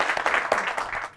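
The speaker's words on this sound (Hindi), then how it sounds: "एक बार जोरदार तालियां बजाइए" A studio audience breaking into applause for a singer on a talk show set, a short burst of dense clapping at moderate volume.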